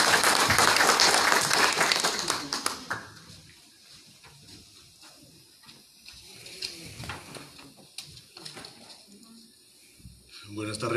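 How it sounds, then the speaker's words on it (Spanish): Applause from the audience at a Peruvian cultural forum, loudest in a dense burst at the start and then thinning to scattered claps before swelling again at the end. "Venga las palmas, por favor. Fuertes palmas."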